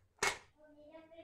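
A crispy paratha pizza base gives one sharp, close crack as it is broken, followed by faint crumbly crackles.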